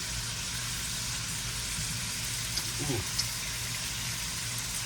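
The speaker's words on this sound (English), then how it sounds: "I want those peppers and onions to sort of cook on that grill for a minute." Peppers and onions sizzle on a grill, a steady hissing crackle running throughout at moderate level, with a brief soft clatter near the middle and a voice talking over it.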